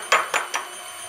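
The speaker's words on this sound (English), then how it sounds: "I'm just breaking the eggs into a bowl so I can make sure that they are perfect" Eggs cracked into a bowl while making maple cream sandwich cookies: three quick, sharp taps about a fifth of a second apart, close and crisp, then a short quiet tail.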